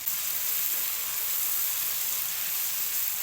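Gravy ingredients with soaked almonds sizzle in a hot pan on the stove, a steady, even frying hiss throughout with no voices.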